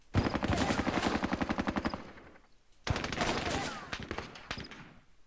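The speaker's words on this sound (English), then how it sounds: "Let's give them a round of firing before we assault here." Two long bursts of rapid automatic gunfire from a squad in the Vietnam-era war game Squad Battles: Tour of Duty, each a fast, loud, evenly spaced rattle of shots separated by a brief lull.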